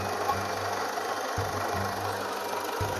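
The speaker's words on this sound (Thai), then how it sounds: "หน้าเครื่องมันจะมีเสียงดังหน่อยนะครับเพราะว่า ลูกปืนคอมแอร์มัน เสียนะครับลูกปืนคอมแอร์แตกนะครับ" A Nissan Frontier YD25 diesel engine with a broken air-con compressor bearing idles with a steady, loud mechanical whir and a low throb that cuts out and restarts at regular intervals, with no voices.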